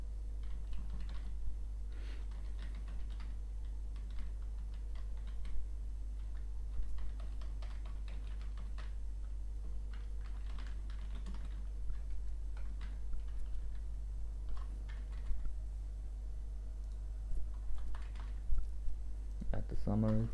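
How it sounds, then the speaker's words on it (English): Typing on a very old computer keyboard, a steady run of light clicks and taps that continues under a low, constant hum, with a louder burst of keystrokes near the end. "I hope my keyboard is not too loud."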